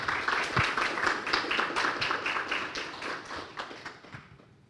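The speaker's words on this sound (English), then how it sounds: "give another round of applause to Professor Düring" An audience at a workshop applauds for Professor Düring, a moderate burst of overlapping claps that gradually fades toward the end.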